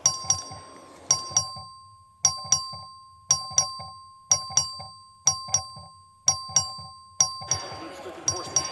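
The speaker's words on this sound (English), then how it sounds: "The clerk ring the bell." A bright electronic voting bell chimes again and again at a steady rhythm in the Texas House of Representatives chamber, each ding ringing out clearly over a low murmur of voices in the large room.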